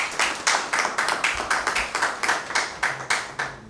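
Audience applause welcomes poet Dr. Milton Mumtaz at a Father's Day mushaira, a steady run of many hands clapping with rhythmic surges, close and moderately loud, with no talking over it.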